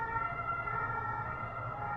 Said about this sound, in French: c'est urgent, hein, vu l'ambulance qui vient de passer